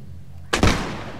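A single sharp gunshot from a musket-era firearm in Mount & Blade: Warband cracks loudly after a quiet lull, followed by a short rumbling echo that fades.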